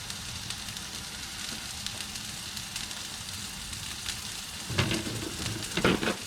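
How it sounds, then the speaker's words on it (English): Yellowfin tuna sears in a hot skillet for spring rolls, with a constant, close sizzling hiss that swells with a few louder crackling bursts near the end. "On for the sizzle."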